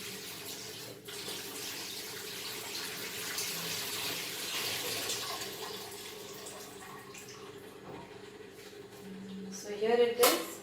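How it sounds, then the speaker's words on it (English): Tiny mackerel fry are washed under a running kitchen tap, a steady broad stream of water with occasional splashes and a louder burst of handling near the end. "So wash nicely and remove all the greasiness from the fish."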